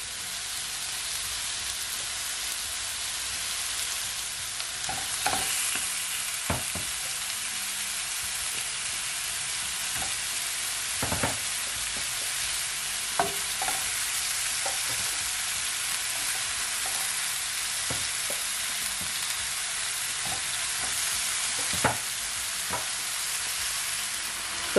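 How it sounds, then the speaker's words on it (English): Turkey neck for Jamaican curry fries in a pot with a steady close sizzle and hiss, broken by occasional scraping knocks as it is stirred. "So now that I had my turkey neck, I'm gonna give it a stir."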